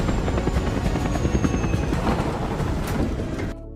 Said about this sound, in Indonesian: Tiba-tiba datang helikopter ke arah mereka.